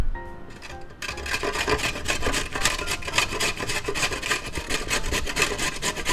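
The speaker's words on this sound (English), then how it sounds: "Now we just use our box grater and grate up our carrot." A carrot grated on a metal box grater, loud rhythmic rasping strokes repeating quickly and steadily for several seconds at close range after a short quiet lead-in.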